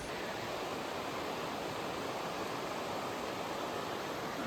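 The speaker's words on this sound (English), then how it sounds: "The mouth of 10 Mile River where it dumps into the Housatonic" Ten Mile River pours into the Housatonic at its mouth, a steady, even rush of water with no breaks, heard faintly and evenly throughout.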